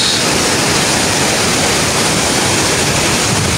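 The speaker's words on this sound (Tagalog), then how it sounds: "Welcome to Mantayupan Falls." Powerful water crashing down the tall Mantayupan Falls in Cebu, a steady, dense roar that stays constant and close throughout, with no voices over it.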